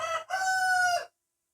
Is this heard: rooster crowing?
yes